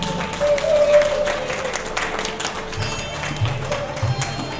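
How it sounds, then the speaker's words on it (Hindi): Audience applause and clapping at an honour ceremony for karaoke group organisers, a steady mid-level patter of many hands with a brief tone and some murmuring underneath. "तालियां बजती रहे।"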